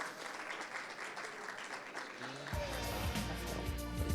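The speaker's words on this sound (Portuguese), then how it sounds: "Uma salva de palmas ao Rafael, por gentileza." An audience at a talk on public transport applauds as a speaker takes the stage, with steady moderate clapping that grows fuller toward the end alongside background music.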